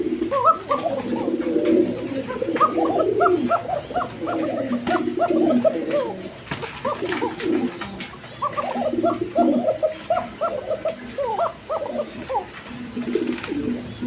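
Pigeons coo continuously in soft, throaty, overlapping calls, close by, with a rustle and a faint bark in the background.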